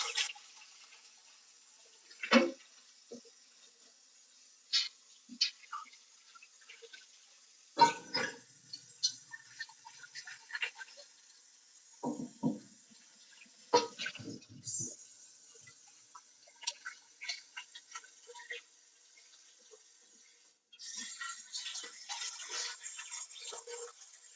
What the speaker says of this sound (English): Alright, so I wash my pan.